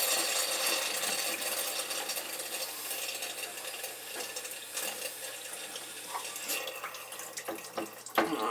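Water gurgles and rushes down a household drain clogged with food, a continuous hissing, bubbling flow with occasional clinks and splashes, moderately close and without talk.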